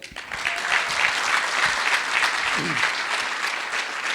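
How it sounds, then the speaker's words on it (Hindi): An audience at a direct-selling motivational seminar bursts into loud, continuous applause for a guest speaker, with a few voices faintly heard within the clapping. "जसवीर जी के लिए जोर तालियां हो जाए"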